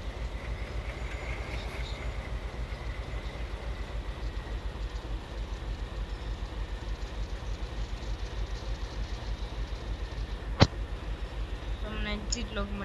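A diesel locomotive in the RG Train Tech Demo game rolls steadily along the rails with a low continuous rumble, a sharp click near the end, and a person talking over it.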